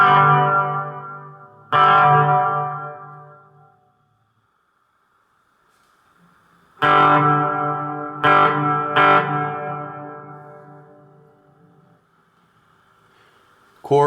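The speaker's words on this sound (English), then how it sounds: "Chorus." Fender Champion 20 practice amp on its clean channel with chorus effect at full level, volume at five: chiming guitar strums ring out and decay in separate bursts, with a lingering wavering shimmer between them and a short pause near the start.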